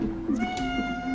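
A house cat meows close by with a few short tonal calls over a steady game soundtrack hum.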